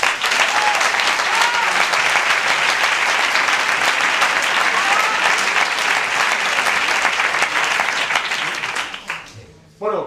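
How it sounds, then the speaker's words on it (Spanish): Audience at a science comedy club show applauding a university vice-rector for research, loud, sustained clapping with some crowd noise that dies down near the end as a voice begins. "Os pido un gran aplauso para el vicerrector de investigación"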